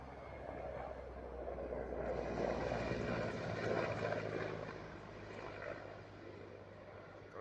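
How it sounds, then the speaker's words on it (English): Ukrainian Mi-8 and Mi-17 helicopters pass overhead, a steady, broad engine and rotor drone that swells to a peak mid-way and then slowly fades as they move off, with no talking. "some Ukrainian Mi-8s and Mi-17s flew over a pair of RM-70s"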